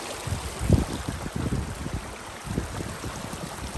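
A small mountain river in the Utah High Uintas near Red Castle, flowing over rocks with a soft, close burble and trickle that rises and falls in small bursts.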